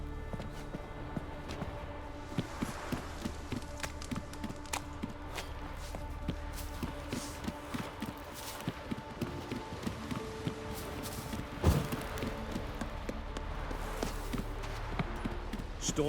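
Horse hooves clip-clop in The Witcher 3 video game, a steady run of light taps under game ambience, with one sharper knock near the middle.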